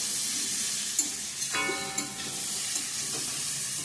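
Taro and potato curry with fish cooking in a pan: a steady close-up sizzle and frying hiss with a few light stirring clinks and scrapes, and no voices.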